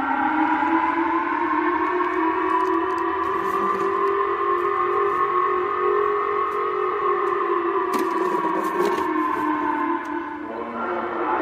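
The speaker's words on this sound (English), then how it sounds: "Sirens wailed across Japan as people were told to seek shelter for a North Korean missile launch." Civil defense sirens sound across Japan during a shelter alert for a North Korean missile launch. The wail is loud and sustained, with layered tones that slowly rise and fall and echo widely for the whole stretch.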